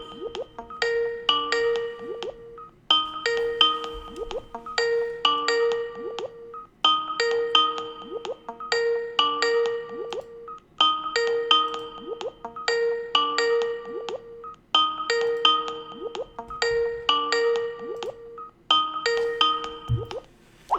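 A Skype call rings out repeatedly with no answer, a steady electronic ringtone pattern repeating in regular bursts about every two seconds, clear and alone with no voices.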